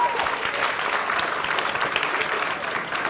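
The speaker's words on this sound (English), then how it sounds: "Let's give a round of applause to Joe and Video, guys." A museum audience applauds presenters with steady, dense clapping throughout, a crowd's sustained ovation with no pauses.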